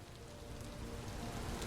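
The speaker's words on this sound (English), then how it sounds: "Now, it is raining." Steady rainfall patters on surfaces in the video game Vintage Story, an even, soft hiss of many drops at a constant level with no voices over it.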